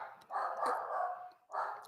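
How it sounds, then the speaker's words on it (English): Dogs barking in a house, two bursts of muffled yapping a short way off, fairly faint, with no talk over them. "I had to tell my dogs to shut up."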